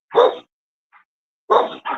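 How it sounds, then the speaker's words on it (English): Dogs bark loudly and close by in two bursts with a pause between, and the second burst is a quick double bark. "Sorry about the dogs."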